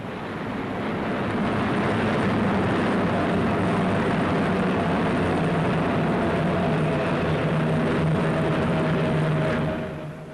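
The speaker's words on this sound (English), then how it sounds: "As this Junkers 88 takes evasive action, you can get a close-up of what a German raider looks like from the air" A captured German Junkers 88 bomber flying through evasive manoeuvres: a broad, steady engine roar that swells in quickly, holds loud and constant for several seconds, then cuts off abruptly.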